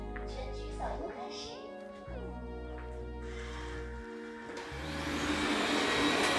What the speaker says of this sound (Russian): Включи пылесос